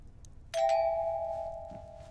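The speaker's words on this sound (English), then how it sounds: "The doorbell rings." A doorbell chimes once with a bright strike that rings out and slowly fades, heard alone in a quiet room.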